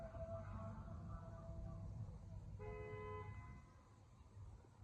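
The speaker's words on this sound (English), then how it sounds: "Car honking aside, it is very, very quiet here at the park today." Car horns honk from a distance near a winter theme park, with two sustained toots over a low outdoor rumble of traffic.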